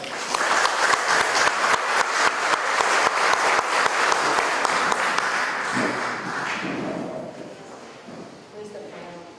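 A lecture audience in a hall gives sustained clapping that welcomes a speaker to a conference on folklore and education, dense and fairly loud before thinning out and fading as a voice begins to talk.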